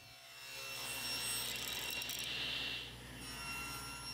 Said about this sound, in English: Then I'll adjust the fence and resaw the pieces at 5/8.